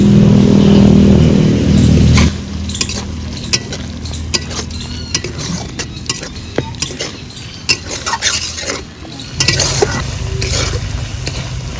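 A spoon scrapes and stirs spice masala sautéing in a pan for paneer-stuffed pointed gourd, with loud repeated clanks and scrapes over a steady sizzle, strongest at the start.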